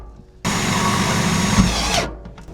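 A power drill drives a screw into sheet tin, a loud, steady whirring grind that starts abruptly, holds for about a second and a half, then winds down and stops.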